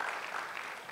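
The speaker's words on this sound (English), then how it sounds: "Let's keep giving her all the applause." Audience applause at an African business forum and expo, a steady wash of many hands clapping throughout the short moment.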